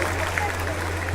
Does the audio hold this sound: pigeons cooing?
no